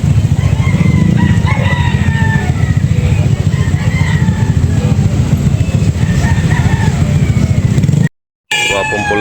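A rooster crows loudly among chickens for sale at a busy Carbon market poultry stall, with a drawn-out call rising over constant crowd noise, nearby clucking and voices of people talking.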